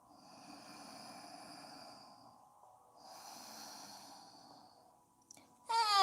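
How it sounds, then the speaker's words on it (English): Slow, deep breathing during a yoga session: two long, soft exhalations close to the listener, separated by a quiet pause, followed by a brief sharper sound at the end. "Take long, deep breaths."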